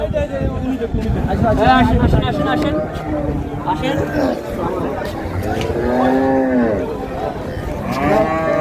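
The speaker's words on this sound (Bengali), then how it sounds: "আর রানী গরু যেটাকে বলি না, ওই গরুটা ভালো খুব" Cows and calves moo at a livestock market in Dinajpur, several long drawn calls rising and falling close by, over nearby chatter and a busy crowd.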